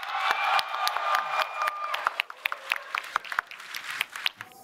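An audience at a live Twitch show breaks into applause and cheering for the guest Connor Eats Pants, a burst of clapping that thins into scattered, sharp individual claps and a few whoops toward the end.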